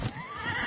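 A horse in the video game Ghost of Yotei lets out a short, rising whinny, close and clear, with faint hoof shuffling beneath it.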